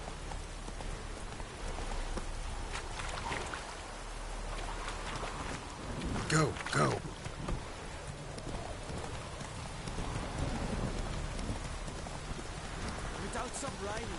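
Rain falls steadily in the Witcher 3 video game, a soft continuous patter, with faint hoofbeats and a brief louder rumble midway, while someone speaks a couple of short words.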